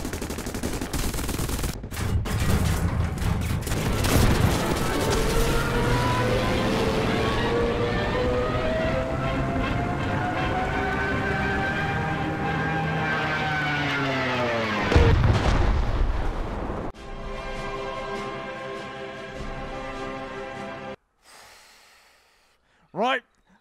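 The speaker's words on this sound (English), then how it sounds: "This is why we have forward-facing Vickers machine guns." Forward-facing Vickers machine guns fire from an aircraft in the video game War Thunder, a long rapid stream of shots over steady engine drone, followed by a heavy blast and then a quieter stretch before a last short burst.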